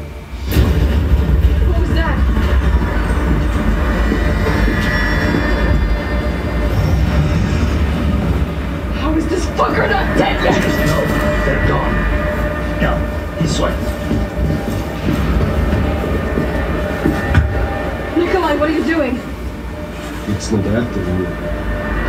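A subway train in the Resident Evil 3 remake rumbles steadily with rail clatter and occasional metallic squeals, loud and close throughout, with voices speaking over it at times.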